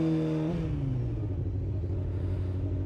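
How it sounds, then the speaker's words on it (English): A motorcycle engine, newly back at full power after a crash repair, gives a throttle blip and then drops back to a steady deep idle rumble. The sound is loud and close, with no talking. "Just like being able to actually just blip the throttle"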